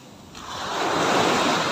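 Ocean surf surges onto the sand at a beach resort in Sariaya, Quezon, a broad roaring wash that swells from quiet to loud and stays close, with wind rumble and no talking.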